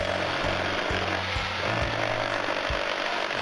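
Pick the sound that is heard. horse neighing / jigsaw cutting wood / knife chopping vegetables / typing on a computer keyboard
jigsaw cutting wood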